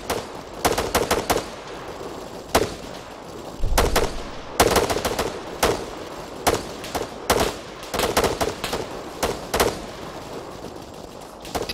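Rapid gunfire in a video game squad battle, loud, close bursts of automatic and single shots cracking out in irregular clusters almost nonstop for over ten seconds.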